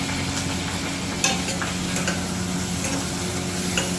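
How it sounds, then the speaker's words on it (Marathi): Food sautéing in a pan in a home kitchen, a steady low sizzle with occasional faint ticks and stirring clinks, heard alone without talk. "त्याला सॉटे कर."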